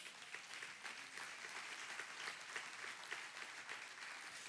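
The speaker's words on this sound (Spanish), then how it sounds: "Dale un aplauso a Jesús." A church congregation applauds at a Spanish-language sermon, a dense, even wash of many hands clapping heard from a distance, fairly faint and sustained without voices.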